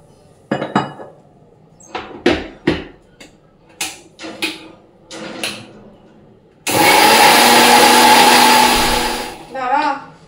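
Garlic, onion, ginger, tomato, mustard and green chilli being ground in an electric mixer jar; scattered clinks of jars and utensils come first, then a loud, steady motor whir runs for about three seconds before stopping, with brief voice-like sounds after.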